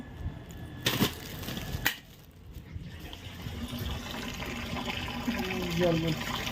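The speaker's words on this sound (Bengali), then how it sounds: "জল পুরো ফোয়ারার মতন পড়ছিল" Water gushes and sprays like a fountain from a faulty household tap, a steady broad splashing rush under occasional nearby talk, with a couple of sharp knocks early on.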